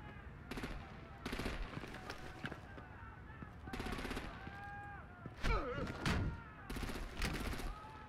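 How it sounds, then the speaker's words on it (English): Gunfire and artillery in the Batman: The Enemy Within video game, with bursts of rapid automatic fire and heavy booms repeating across the scene. They come in clustered volleys mixed with game sound effects and the occasional voice. "Break out the artillery and disable their vehicles!"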